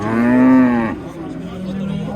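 A single long, loud moo from a cow close by at the Karakol livestock market, followed by low background noise.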